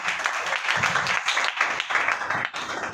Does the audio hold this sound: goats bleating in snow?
no